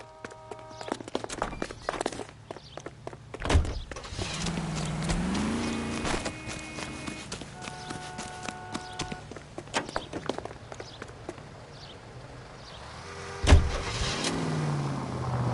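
A car in the video game L.A. Noire drives along with a steady engine hum, mixed with scattered game sound effects and a few sharp knocks, including a loud bump near the end.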